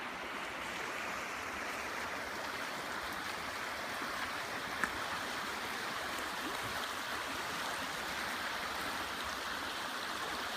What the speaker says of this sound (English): The river's up a little bit right now with this rain